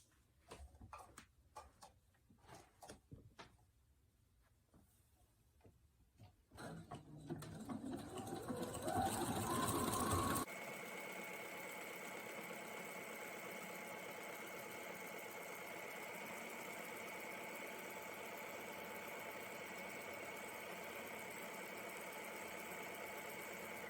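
A sewing machine runs steadily, stitching white lace onto the back of a dolman top, after some quieter handling sounds at the start. The motor whirs continuously and fairly loudly for the rest of the stretch.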